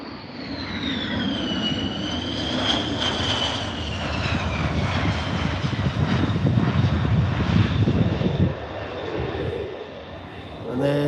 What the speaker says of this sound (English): And the F-35s are returning.